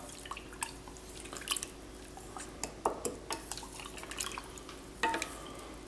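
A spoon stirs Thai iced tea concentrate with a little undissolved sugar, making light clinks and scrapes against the container alongside soft liquid sloshing and drips, close and fairly quiet, with no talking.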